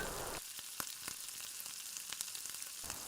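Cut cowpeas and potatoes hit hot oil in a frying pan, giving a quiet, steady sizzle with faint crackles and no talking.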